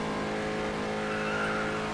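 A race car with a tuned engine in FlatOut Ultimate Carnage holds a continuous, steady engine whine with layered tonal hums, running close and even throughout without talk.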